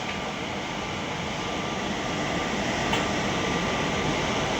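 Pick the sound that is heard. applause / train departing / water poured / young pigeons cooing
train departing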